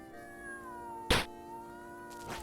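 A cat meows twice in Jump King, the calls short and fairly clear against a steady hum of game music, the first one louder and the second fainter near the end.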